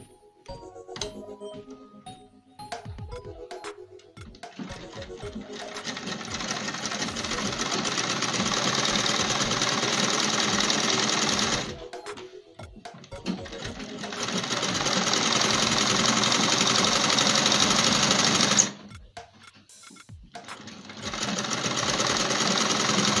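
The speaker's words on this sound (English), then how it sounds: "We'll go ahead and sew." Sewing machine stitching Ankara African print fabric for a halter crop top, running in two long steady bursts with a short pause between and another run starting at the end, loud and close with no talking.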